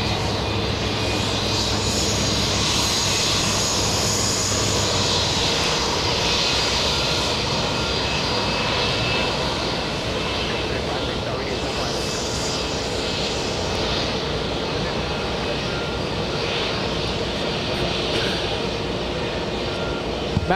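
Jet engines of a Lufthansa airliner moving at JFK Airport give a steady, loud broadband roar with a high whine, holding alone for the full stretch.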